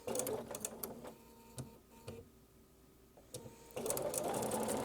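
A sewing machine stitches fabric pieces for a sunflower table topper in a run of close, steady mechanical whirring with brief clicks, then a quieter pause and a louder burst of stitching at the end; no talk.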